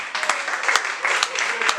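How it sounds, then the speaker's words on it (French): An audience at a white cane handover ceremony claps in a dense, steady burst of applause, close and fairly loud, for the whole short stretch. "Merci d'applaudir très fort pour cette initiative."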